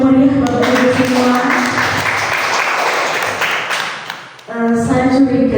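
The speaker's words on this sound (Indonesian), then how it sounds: "Tepuk tangan yang meriah Bapak Ibu semua." An audience at an education dissemination session claps warmly for a few seconds, a dense wash of applause that fades out, after which a voice comes back over a loudspeaker.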